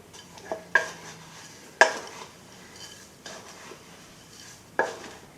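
Cornbread batter stirred with a big mixing spoon in a bowl, a few sharp clinks and scrapes spaced a second or more apart over quiet room tone, with no speech.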